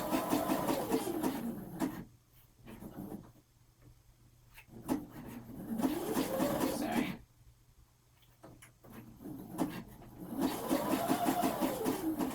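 A sewing machine stitching fabric, reversing to lock the stitches, runs in steady whirring bursts with short pauses between them, close and moderately loud.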